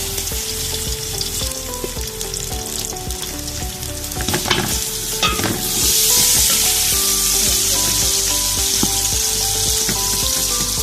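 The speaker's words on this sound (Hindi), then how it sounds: "ये अब हम ब्राउन करेंगे प्याज।" Onions browning in hot oil for a Punjabi kadhi pakora, giving a loud, steady sizzle with stirring clatter throughout, the frying hiss swelling brighter and fuller partway through.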